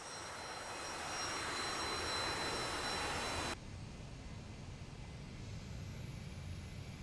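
AJS37 Viggen jet engine in a flight game, a steady broadband roar with a high whine while taxiing off the runway, loud and continuous, dropping abruptly to a lower, quieter rumble midway.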